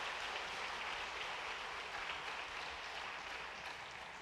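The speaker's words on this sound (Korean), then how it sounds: "잠깐 자리에서 일어나시면 우리 큰 박수로 환영하겠습니다." A church congregation applauds during a Sunday worship service to welcome visitors: soft, continuous clapping from many hands, heard from a distance and fading slightly toward the end.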